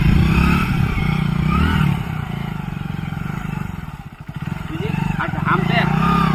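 A motorcycle ridden along a rural field track toward a road, its engine droning steadily and close throughout while people talk over it.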